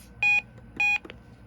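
Two electronic beeps from the buttons of a Reecom R-1630 weather radio, each a steady high tone lasting about a fifth of a second, separated by a short gap, followed by a faint click or two.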